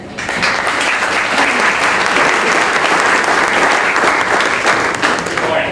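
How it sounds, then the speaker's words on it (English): An audience at a 1 Million Cups startup pitch event breaks into warm applause, a dense, steady clapping that starts abruptly and holds at full strength throughout, with no voices over it. "So up next, please give a warm round of applause for Preston with Rank Minor."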